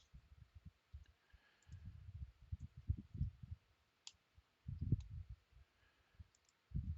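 Computer mouse clicks at a desk while working in tabletop game software, a series of faint, close single clicks, with low thumping handling noise between them.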